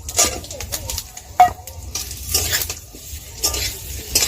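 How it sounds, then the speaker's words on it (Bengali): Mango pieces are stirred in hot oil with panch phoron, giving intermittent scraping and clinking of a utensil against the pan over a soft sizzle, with occasional birdsong in the background. "আমটা তেলের মধ্যে একটু নাড়াচাড়া করে নিয়েছি"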